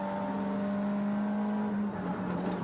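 A Nissan Skyline race car engine accelerating hard at Bathurst in 1987, a loud sustained droning roar with a steady pitch that drops briefly at a gear change before pulling on.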